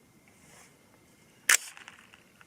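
An AR-15 rifle firing 6.8 SPC II 120gn SST rounds: a single sharp shot crack midway, loud and brief, with a short decaying echo over a quiet background.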